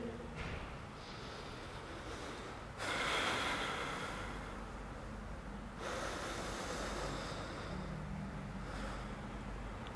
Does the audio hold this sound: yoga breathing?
yes